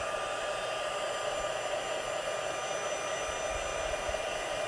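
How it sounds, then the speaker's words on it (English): A heat tool warms a stamped greeting card for embossing, giving a steady, loud fan-driven blowing roar that holds unchanged for several seconds with no talking. "I'm going to make some noise just for a few seconds while I heat this up"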